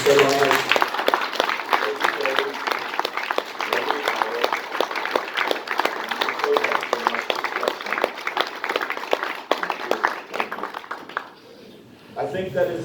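An audience at a eulogy applauding for firefighters, sustained dense clapping from many people that carries on steadily before fading briefly near the end, with a voice speaking over it.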